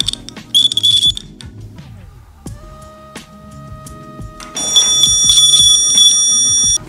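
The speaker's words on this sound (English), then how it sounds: "When I connect this wire to the maze, the buzzer will go off." A DIY buzz wire game circuit with a crocodile-clip wire sets off its electronic buzzer in loud, shrill bursts, first briefly, then sustained steadily for the last couple of seconds amid clunks and handling noise.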